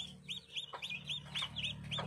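Black chicks of a black-feathered chicken breed peep repeatedly for their mother hen in a farm pen in Phetchabun, a steady run of high, bright chirps at close range.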